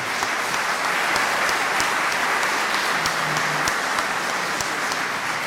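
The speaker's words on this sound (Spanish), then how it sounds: "para quien pido un aplauso, un fuerte aplauso" Sustained, dense audience applause at a Buenos Aires national real estate professional forum, steady and loud throughout with no speech over it.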